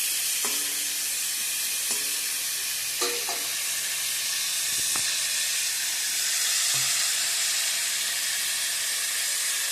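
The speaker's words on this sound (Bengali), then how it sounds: "ভালো করে ভাজা ভাজা করে নেব" Spices with salt and turmeric fry in a pan as a steady, bright sizzle, with several sharp utensil clinks and scrapes of stirring near the start.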